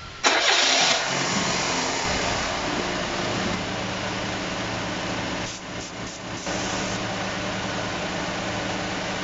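A car engine cranks and starts with a loud burst, then settles into a steady idle that runs on, briefly dipping midway, during an air-conditioning vacuum and refrigerant charging job.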